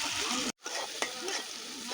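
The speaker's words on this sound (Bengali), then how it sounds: "চিংড়ি মাছগুলো দিয়া ভালো করে লাইড়ে চাইড়ে নিব" Shrimp, spices and fresh okra sizzle and fry in an oiled wok while being stirred, a dense, steady crackle close by with a brief break partway through and no talking.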